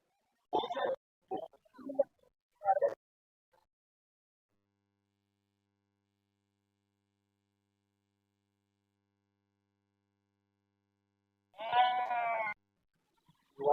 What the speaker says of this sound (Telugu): కుంట గొర్రెల మేకల సంత